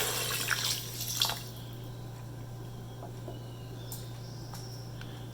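A small amount of water, about a third of a cup, is poured into an Instant Pot with soaked basmati rice for veg pulao, giving a brief splashing gush followed by quiet drips over a steady appliance hum.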